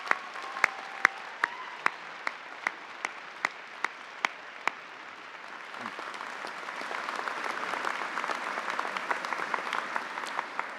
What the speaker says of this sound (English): Could you give a round of applause?